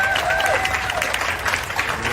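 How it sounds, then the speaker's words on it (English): An audience gives a round of applause for a guest at a recovery and opioid-overdose awareness event, with brief, dense clapping as a voice speaks over it. "Please give him a round of applause."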